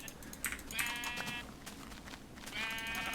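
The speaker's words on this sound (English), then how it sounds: "Let me grab these sheep real quick before I head back." Sheep in Minecraft Beta 1.7.3 bleat twice, a nearby wavering blat and then another a second later, mixed with faint clicking from game play.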